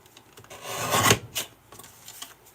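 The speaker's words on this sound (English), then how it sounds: "So I'm going to bring out my little trimmer, which is the Tim Holtz one, which just lets me chop just that smidge off." Tim Holtz paper trimmer blade sliding across cardstock, a single short close rasping cut that swells and ends, followed by a quieter second scrape.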